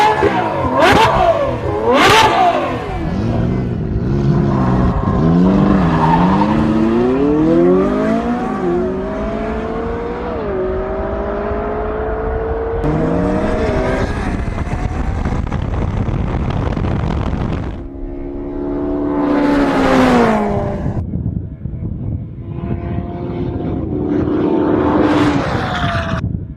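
A McLaren 570S and a Ferrari F12 supercar accelerating side by side in a drag race, engines roaring loudly through repeated rising gear sweeps with sharp shift breaks, sustained and close throughout.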